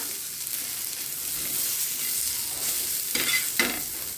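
Onions dry-roasting for chutney, stirred in a pan, giving a bright, steady scraping sizzle with a few louder scrape strokes near the end.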